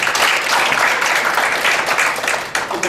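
Audience applause at a policy forum on arts and culture for disabled children, a dense, steady wash of clapping from a seated crowd, sustained for the whole few seconds and tapering slightly at the end.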